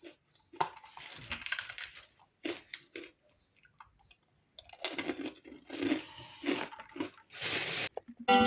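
Someone chews a plain cookie up close, with bursts of crunchy, wet mastication separated by short pauses and no talking.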